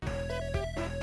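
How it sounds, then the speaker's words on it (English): Harsh, buzzy chiptune music from a faulty Sega console, with a warbling tone and steady beat, sounding grainy and distorted throughout. "every single game that you run off this system has sound problems"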